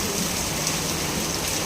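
Heavy rain pours down steadily in cold, windy weather, a dense continuous hiss of drops close by with no break and no voices.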